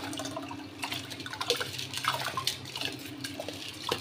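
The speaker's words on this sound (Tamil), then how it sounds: "குக்கரில் 4 கப்பு தண்ணி ஆட் பண்ணிக்கோங்க." Water poured into a pressure cooker for rice porridge (nombu kanji), a steady, close splashing and trickling with small metallic clinks, continuing for several seconds without talk.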